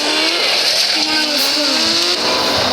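A car driven fast, its engine a loud continuous roar with shifting pitch as it revs and changes speed, heard from close by with someone talking over it.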